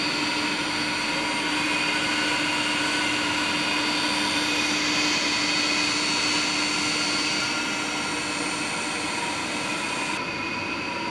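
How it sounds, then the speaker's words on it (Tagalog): Booster pump motors at a pumping station run with a steady, loud mechanical drone and a constant high whine, unbroken for the whole stretch with no talking. "mga booster ng motor"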